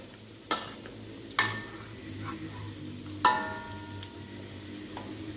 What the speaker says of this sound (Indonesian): ini sambil diaduk-aduk ya, kita gorengnya agar matangnya merata